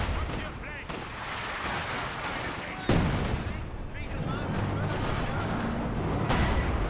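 A StuG assault gun fires in a Company of Heroes 2 battle, a sharp heavy report near the three-second mark amid a continuous din of gunfire and explosions, with a voice talking over it.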